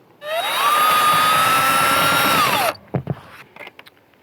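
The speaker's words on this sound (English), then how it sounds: "Time to get a drill driver with a bit that can go through wood." A drill driver with a 1-inch bit spins up and bores through wood near an exterior brick wall, a loud steady whine that winds down, then a few clunks and rattles.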